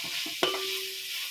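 Rice fries in ghee in a pot for masala rice, a continuous bright sizzle with a few soft stirring scrapes and one sharp metallic clink that rings on briefly.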